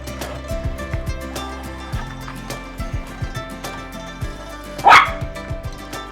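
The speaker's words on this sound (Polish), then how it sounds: "kto tu tak szczeka?" A dog barks indoors during house cleaning on a rainy day, giving a string of short, fairly close barks at an uneven rhythm, with one louder, higher yelp near the end.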